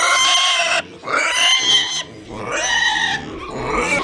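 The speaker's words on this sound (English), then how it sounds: "It sounds just like those piglets." Pigs squeal loudly and close up in several long, shrill bursts separated by short gaps, with grunting underneath.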